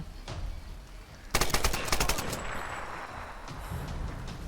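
Gunfire in the video game Tomb Raider 2013: a single shot, then a rapid automatic burst of close, loud cracks, followed by a lingering rumble and scattered noise.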